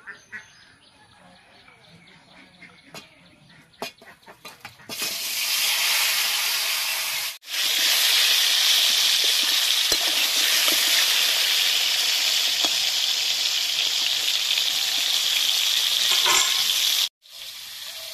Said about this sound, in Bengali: তেলটা গরম হয়ে গেছে, এবার পটলগুলো দিয়ে দেবো তেলের মধ্যে।